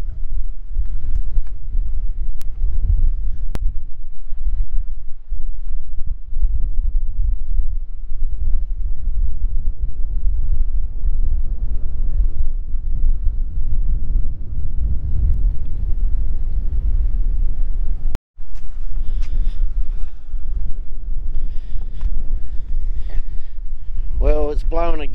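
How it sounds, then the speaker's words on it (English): A strong gale blows on a seaside jetty at night and batters the microphone with loud, continuous low rumbling gusts. A voice is heard near the end. "Blowing a gale out here"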